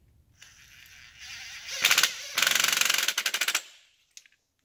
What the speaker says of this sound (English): I'll run it down basically finger tight with the impact and then finish up with a ratchet.